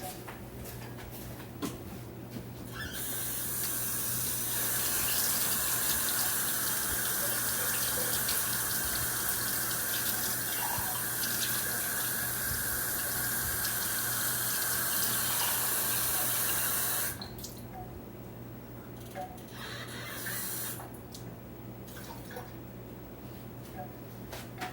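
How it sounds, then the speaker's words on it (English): Bath water pours steadily from a tap into a tub for about twelve seconds, a loud continuous rush that then stops, leaving quieter room sound with faint drips. "I have the bath water going"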